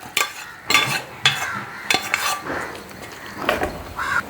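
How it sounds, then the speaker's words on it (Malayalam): Cooked jackfruit seeds are tipped and scraped from a pressure cooker into a clay pot, giving a close series of clattering knocks, metal scrapes and soft thuds at irregular intervals. "നമ്മുടെ കുക്കറിൽ നിന്ന് ഇതിലേക്ക് അങ്ങ് തട്ടിയേക്കാം,"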